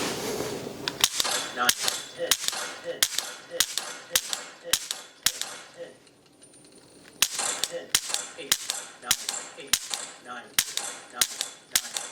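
A string of sharp, evenly spaced clicks comes from a pistol being dry-fired with a laser training cartridge, about two per second, with a short pause midway before the steady rhythm resumes.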